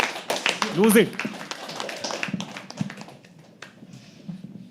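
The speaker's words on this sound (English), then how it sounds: "Keep clapping" Scattered claps from an audience at a live poetry open mic, a handful of sharp hand strikes that thin out over a few seconds while a voice speaks over them.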